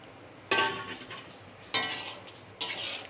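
A spoon stirs dal with spices in a pot, giving three separate scraping, clattering strokes against a quiet background with no voices.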